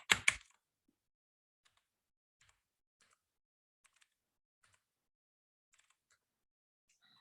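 Someone types on a computer keyboard, a function being entered as sparse, faint keystroke taps after a louder opening clatter, with long quiet gaps and no talking.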